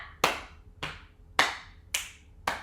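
Classroom of fifth graders performing a body-percussion pattern of pats, claps and snaps, five crisp sharp hits spaced about half a second apart in an even rhythm, close and clear with no voices.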